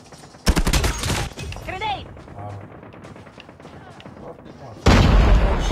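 Gunfire and a grenade explosion in the Call of Duty Mobile video game: a loud, dense burst of shots at the start, a stretch of quieter game noise with a voice, then another loud explosive burst at the end.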